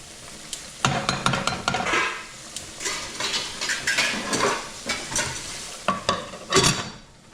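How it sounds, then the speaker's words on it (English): A spoon stirs spinach in a hot sizzling pan for lobster farfalle, with repeated scraping and clinking strokes over a steady frying hiss, close and moderately loud, no talking. "we're going to stir it up a bit"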